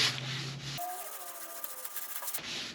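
Light-pressure sanding of car paint with 600 grit sandpaper, a close, steady dry rubbing scrape that runs continuously through the middle of the clip with small surges in stroke intensity.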